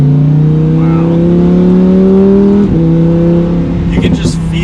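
A 2020 Lamborghini Huracan EVO V10 revs and holds a loud, steady engine tone while taking sharp turns, dipping briefly near the end with a few crackling bursts; a voice speaks over it.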